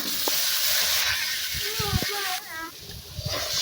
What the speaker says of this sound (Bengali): তারপরে ডিমগুলো ভেজে নিলাম।